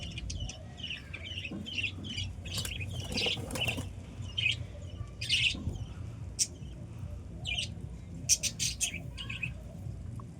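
A captured pigeon flaps its wings in quick, fairly faint bursts, with scattered chirps and clucks around it in a quiet setting.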